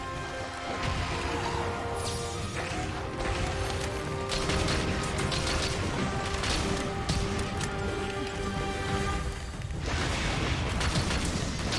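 Rapid-fire weapon shots in the Crimson Skies aerial combat game: a dense, continuous stream of quick mechanical bursts with crashing impacts layered over steady engine drone, loud and sustained throughout.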